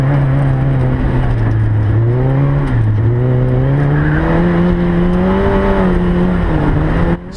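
A sports car works through an autocross slalom course, its engine note rising and falling steadily as it weaves through the poles and switchbacks, loud and close the whole way before cutting off abruptly at the end.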